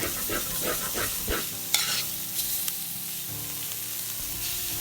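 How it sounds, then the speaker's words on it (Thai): Pork belly stir-fried with curry paste for a spicy Thai stir-fry, with a spatula scraping and tossing the meat in rhythmic strokes over a steady, close sizzle and a few sharper clacks against the pan. "ผัดจนสุก ผัดไปเลยค่ะ"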